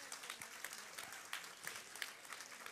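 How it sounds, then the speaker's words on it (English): Applause from an audience at a Bharatanatyam dance debut, a Ranga Pravesha recital, with dense steady clapping heard at a distance and fairly quiet throughout. "A little more to applaud"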